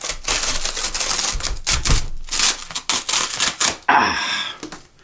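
Plastic or paper packaging on a vinyl LP of Pink Floyd's Dark Side of the Moon live at Wembley 1974 is ripped open close up in a series of loud, rough tearing bursts with short pauses, then a longer final rip.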